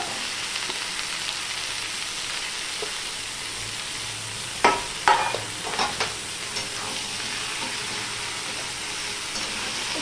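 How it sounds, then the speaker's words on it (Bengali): Pumpkin plant stems and leaves fry in oil in a pan with a steady hiss, and a short burst of spatula scrapes and clatters breaks in partway through before the even sizzle resumes. "তেল দিয়ে ভালো করে একটু না ভাজা না সিদ্ধ এরকম করবো আগে।"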